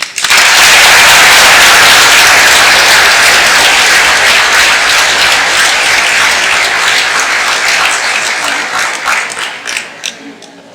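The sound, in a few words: audience applause at a conference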